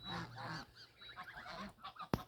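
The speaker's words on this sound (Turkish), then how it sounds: "kazlar sürü halinde yaşıyorlar" Geese honk repeatedly in a flock, their nasal calls overlapping close by, ending with a sharp loud knock.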